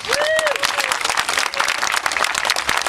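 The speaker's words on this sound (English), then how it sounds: "Let's give yourselves and ourselves a big round of applause." Crowd applause fills a Muslim Capital Day gathering in Jefferson City, Missouri, with dense, steady clapping held loud and close for the whole stretch while a voice calls out briefly over it.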